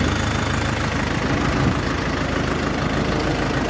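Diesel engine of an Orion JD 504 tractor, fitted with a 495 engine, idling steadily and fairly close, a continuous low rumble with a faint regular knock and no voices.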